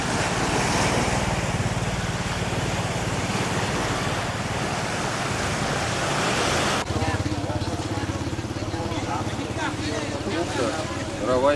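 Loud, continuous wash of Andaman Sea surf rolling against the shore at Phuket's southern tip, Thailand, with a broad rumbling roar that shifts in tone partway through.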